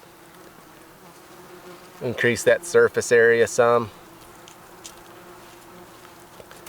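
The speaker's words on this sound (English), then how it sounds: "Most of this buzzing you hear are yellow jackets." Yellow jackets and a few flies buzzing around jerky drying outdoors in the wilderness, a steady faint drone that swells into loud close buzzing for about two seconds midway, with someone briefly speaking over it.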